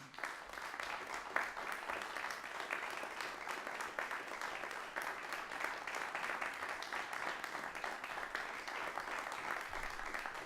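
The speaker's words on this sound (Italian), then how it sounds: "Io direi intanto di dare il benvenuto ai due maestri con un applauso" Sustained applause from a concert audience welcoming a pianist and fellow musician at a classical matinee, a dense steady clatter of many hands that holds evenly throughout with no voices over it.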